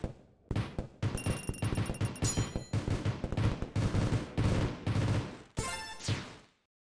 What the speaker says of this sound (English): That almost sounds like fireworks